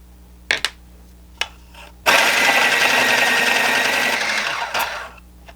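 An electric sharpener grinds a colored pencil, a loud steady whirring buzz lasting about three seconds, preceded by a few sharp clicks and taps.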